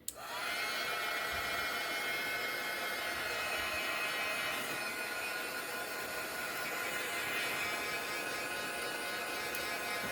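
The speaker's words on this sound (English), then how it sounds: "I've got my heat gun out here, and I'm just going to go over these flowers and these little leaf details" A heat gun blows steadily and loudly throughout as it dries chalk paint on a cement frog, an even whirring roar with a high-pitched electric whine, close and alone with no talking.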